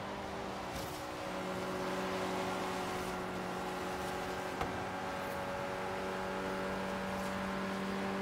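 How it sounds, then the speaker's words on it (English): Audi S1 four-cylinder engine in the video game Forza Horizon 3, a steady, fairly quiet high-gear drone with a constant engine tone that holds level throughout, no talking. "This little Audi four-cylinder, man, it's quick"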